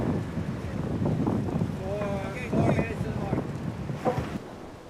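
Gusty wind buffets the microphone aboard a sailboat, with water rushing underneath and voices talking over the blustery noise.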